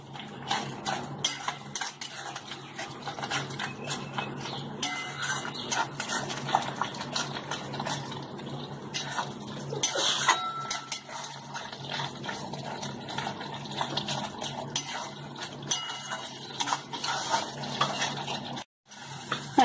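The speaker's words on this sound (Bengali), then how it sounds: "এবার আমি আরেকটু কষাবো।" Egg curry masala for steamed egg curry (dim bhapa) is stirred and sautéed in a pan, with steady scraping and clinking of a spoon against the metal over a soft frying hiss, continuous and close, ending in a brief pause.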